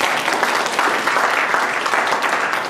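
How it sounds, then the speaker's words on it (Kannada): Audience applause at a church faith conference, a dense, steady wash of many hands clapping throughout, loud and sustained with no break. "ಚಪ್ಪಾಳೆ ಹೊಡಿರಿ."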